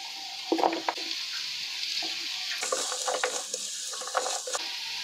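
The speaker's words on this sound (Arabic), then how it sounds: "اول هنزل بالجزر بالشكل ده، هشوحه كده تشويحه الاول عشان الجزر بياخد سوا اكتر" Carrots and zucchini sauté in a pan with a steady high sizzle, broken by several stirring scrapes and light clinks of the utensil against the pan; no one talks.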